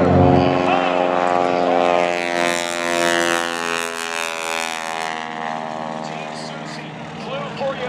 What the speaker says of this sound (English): Teresa Stokes is wing walking, ladies and gentlemen